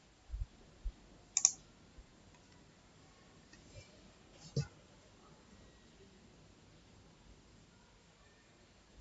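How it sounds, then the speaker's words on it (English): A few sharp, faint computer mouse clicks sound in a quiet room, scattered singly and in a quick pair near the start, with another click a few seconds later. "So what I can do, I can click on transform data."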